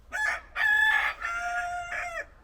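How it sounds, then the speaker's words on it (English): A nearby rooster crows loudly in one long, drawn-out cock-a-doodle-doo with several rising and falling segments, clear and alone in a welding workshop. "Interrupting chicken"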